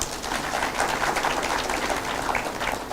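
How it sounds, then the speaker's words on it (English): A conference audience at the RCMRD International Conference 2022 applauds the presenters, giving a dense, even roar of many hands clapping that holds steady for about three seconds without any speech. "I would like to have another applause for the presenters, please."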